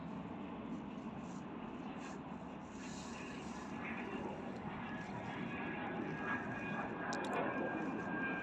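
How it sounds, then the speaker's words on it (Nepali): An airplane passes overhead while hikers stand at a hilltop viewpoint, its broad, steady engine roar filling the scene throughout and swelling slightly louder toward the end, with no one speaking. "उड्यो एउटा प्लेन"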